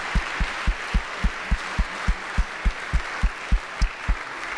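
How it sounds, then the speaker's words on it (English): Applause in a classroom at Phillips Academy after a debate talk: steady wash of clapping from the room with a regular thumping beat running under it, moderately loud throughout. "Let's have one more round of applause for Vic and Tony."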